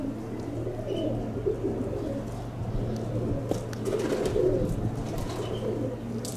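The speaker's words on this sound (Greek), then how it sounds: "βλέπετε τις κόντρες που έχουν τα περιστέρια" Racing pigeons coo in soft, overlapping calls over a steady low hum, with the birds fairly close and the cooing continuing throughout.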